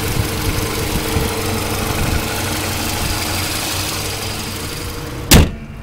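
Steady low idling of a 2005 Toyota Highlander's 16-valve engine, heard up close, ending with a sudden loud thump near the end.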